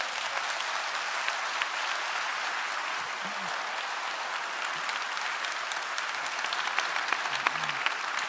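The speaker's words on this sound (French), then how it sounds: "continuez d'applaudir pendant ce temps" Sustained audience applause following a farewell speech at a company gathering in Brittany, a dense even roar of many hands clapping, with a faint voice briefly audible beneath it.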